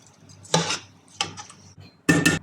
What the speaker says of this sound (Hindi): अब मैं इसमें ऐड करूँगी चावल।